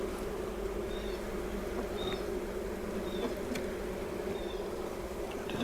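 Honeybees in a hive box during a Demaree split make a dense, loud, continuous buzzing hum up close, with occasional higher whines from individual bees flying past.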